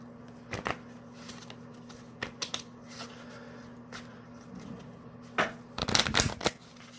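Punched Pokemon art cards being shuffled, several short crisp riffling bursts spaced apart, with the densest flurry near the end over a steady low hum.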